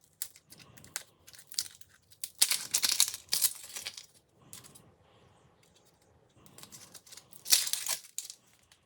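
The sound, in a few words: peeling papery onion skin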